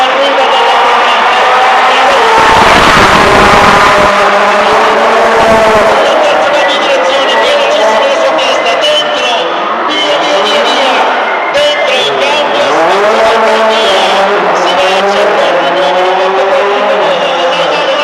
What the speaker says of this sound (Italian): l'uscita, mentre Valentino Rossi arriva dall'altra parte